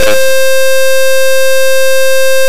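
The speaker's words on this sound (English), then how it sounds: "Alright, so that's the alarm." Loud steady electronic alarm tone from the RPM warning in an RV-7 aircraft cockpit. It sounds as a continuous harmonic buzz after a short burst at the start.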